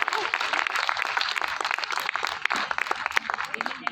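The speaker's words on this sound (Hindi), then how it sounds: "एक बार तालियां बजा दीजिए" An audience applauds at a gathering, a dense burst of many hands clapping together that stays loud and continuous throughout.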